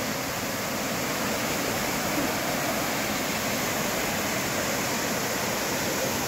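Water pours down a waterfall at Bolinao in Pangasinan, Philippines, a loud, steady, broadband rush that stays constant throughout, close by and with no other sounds over it.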